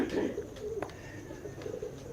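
Pigeons coo softly in a loft, with low throaty coos, light chirps and a faint murmur of background voices.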